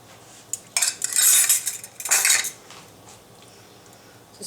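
Mustard being stirred into homemade BBQ sauce, a spoon scraping and clinking against the bowl in two close bursts before going quiet, no talking.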